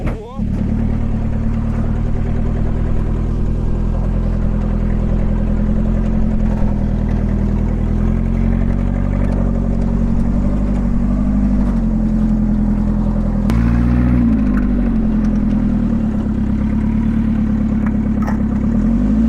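A Ural K-750 motorcycle fitted with a Toyota engine runs loud and close for the whole stretch, a steady droning motor that rises in revs partway through, with mechanical clatter on top.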